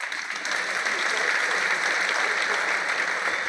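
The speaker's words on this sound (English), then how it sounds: "why you guys, you're not clapping very well." Audience clapping at a business event, a sustained even wash of many hands applauding at moderate volume, with a voice faintly present underneath.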